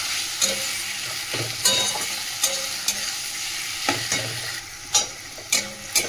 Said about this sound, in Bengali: টমেটো আদা রসুনটা একটু নাড়িয়ে নিলাম ভালো করে তেলের মধ্যে